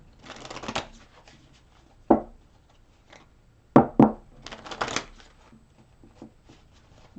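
Tarot cards shuffled for a reading give soft riffling bursts and a few sharp taps as the deck is squared, close and intermittent, with quiet gaps between.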